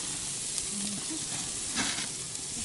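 Shrimp frying in butter in a pan while being basted, a dense, steady sizzle up close, with a faint scrape of stirring partway through.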